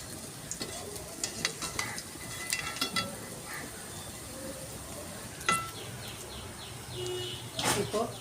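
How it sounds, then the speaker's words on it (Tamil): Vadas deep-fry in hot oil, a faint, steady bubbling sizzle with scattered small crackles and pops, soft and close in a quiet kitchen. "எண்ணெயில் இடம் பத்துற அளவுக்கு ஒரு 4 வடை 5 வடை இது மாதிரி போட்டு வெந்தோம்னா அப்புறம் மாற்றி போட்டுக்கலாம்."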